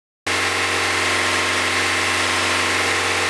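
A 1995 Honda Accord engine idles in a steady, even hum that starts abruptly after a brief silence and stays constant and close throughout.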